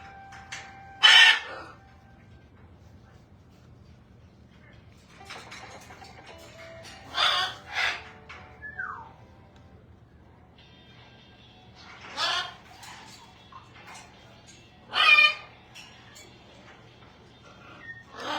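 A pet parrot gives a few loud, harsh squawking calls spaced several seconds apart, close by in a quiet room with soft chatter between them.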